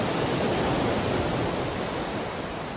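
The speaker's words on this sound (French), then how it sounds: "Les vagues viennent mourir à nos pieds." Broad, continuous roar of sea waves breaking below a small cliff protected by rock armour on the Cotentin coast, loud and close without distinct individual crashes.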